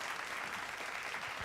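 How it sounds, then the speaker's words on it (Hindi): Brief burst of audience applause at an education conclave, a steady wash of clapping from a seated crowd, moderately faint and continuous for about a second and a half. "जोरदार तालियों के साथ स्वागत कीजिए गोविंद नारायण सिंह जी का।"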